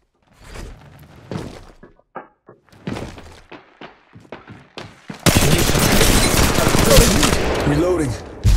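Arcstar grenade thrown and bursting in Apex Legends Mobile: a few sharp thunks and clicks, then a loud crackling, sizzling electric blast that fills several seconds up close.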